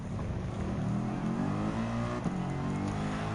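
Mercedes-AMG GT3 race car in Gran Turismo 7 on a German racing-spec time trial, its engine holding a steady, loud, sustained drone with rising pitch sweeps as it revs continuously, with no voices.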